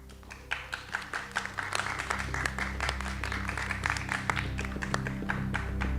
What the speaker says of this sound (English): please give a round of applause to every candidate who is here today and for those who were present virtually